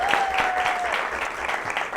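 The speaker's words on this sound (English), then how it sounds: "Can we clap for them?" A studio audience claps for the guests on the premiere of a television talk show, a dense steady wash of applause across the whole stretch, with a sustained tone and some faint voices in the background.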